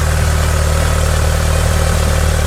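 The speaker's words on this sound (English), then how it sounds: "Okay, here it is running." A rebuilt engine in a 1978 Lotus Sprint Eclat idles steadily, a continuous low, even rumble with a faint vibrating hum, close by and alone with no talk.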